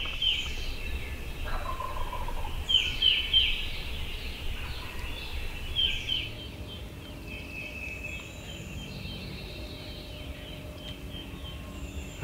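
Wild turkey longbeard gobbles ring out at a distance across a big hollow on a ridge-top hardwood hillside at sunrise, several rolling bursts over steady outdoor background with no talk.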